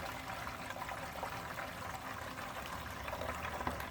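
Water pours steadily into a chicken waterer, a soft continuous filling hiss and trickle that stays faint and even for a few seconds, with no talk.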